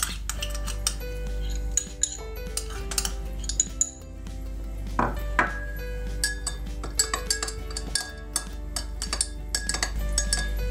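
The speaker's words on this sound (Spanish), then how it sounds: "Entonces voy a disolver la levadura, voy a mezclar todo." A spoon stirs a yeast mixture in a glass, making quick repeated clinks and scrapes against the glass, close and crisp over a low steady hum.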